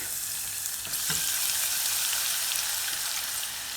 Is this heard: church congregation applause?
no